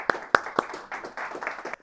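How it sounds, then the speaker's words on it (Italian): Sparse clapping from an audience at a hi-fi audio event, a few sharp nearby claps followed by thinner scattered applause, brief and modest. "Un applauso"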